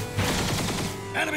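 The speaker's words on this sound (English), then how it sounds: "Enemy fire!" Enemy machine-gun fire crackles in a rapid burst through the Vanquish game soundtrack, close and loud with a short break before another volley.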